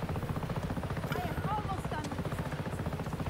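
Helicopter in the video game Just Cause 3, a steady throbbing rotor drone held loud throughout, with faint voices woven into the background.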